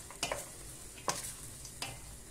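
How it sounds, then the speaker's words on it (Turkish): Purslane sautés in a pot with a soft sizzle, broken by three or four brief stirring scrapes spaced about a second apart; fairly quiet and no talking. "Şöyle güzelce kavuralım."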